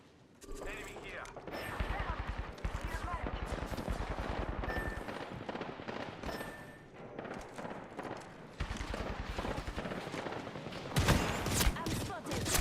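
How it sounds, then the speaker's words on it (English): Rapid video game gunfire crackles in dense bursts while the player is shot at during a shooter match, with sharp repeated shots nearly throughout and a louder flurry near the end. "Being shot at."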